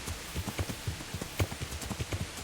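Horse hooves clip-clopping at a steady walking rhythm in the medieval game Kingdom Come: Deliverance, soft distinct thuds repeating evenly and heard alone without talk.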